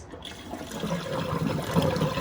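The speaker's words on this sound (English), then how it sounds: "So I have to water this one in the sink because it will make a big mess." Water pouring in a sink while a potted plant is watered, a steady close splashing trickle that grows slightly louder.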